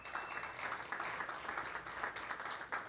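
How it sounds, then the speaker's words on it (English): An audience applauds at a sheriff's candidate forum held before a primary election, producing a steady, fairly faint patter of many hands clapping that lasts about three seconds with no speech. "Let's give them a round of applause."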